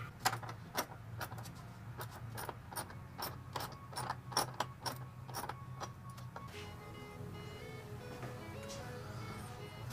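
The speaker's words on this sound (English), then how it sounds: "I'm gonna tighten the battery bracket back with the L bracket that's provided by Leyo" A ratchet tightens a car battery bracket on a VW MK7 GTI, a fast run of sharp clicking strokes up close, then quieter fumbling mechanical sounds.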